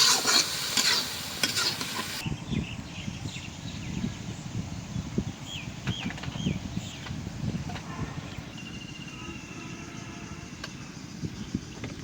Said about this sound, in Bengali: হয়ে গেল পুঁই শাক ভাজা